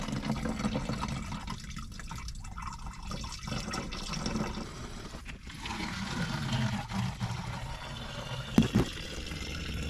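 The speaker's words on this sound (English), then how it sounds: "I've decided to go ahead and drain the coolant" Coolant drains from a 2003 Ford F350 Super Duty 6.0 truck, heard as a continuous trickle and splash of liquid with scattered drips and a couple of knocks, fairly quiet and without talking.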